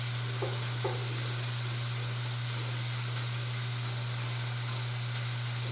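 Vegetables sauté in a pan alongside steak, giving a continuous close hiss and sizzle with a couple of faint stirring taps near the start, over a steady low electrical hum.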